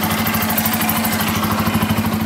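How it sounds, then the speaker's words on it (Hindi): Bajaj Pulsar N250 engine idling close by, a steady rapid mechanical thrum with even pulsing beats, moderately loud with no voices. "और इसका इंजन का आवाज कुछ ऐसा आने वाला है"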